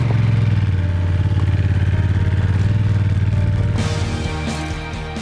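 A Honda DCT motorcycle engine thrums steadily while riding, a close, loud, even pulse that shifts slightly in pitch near the end.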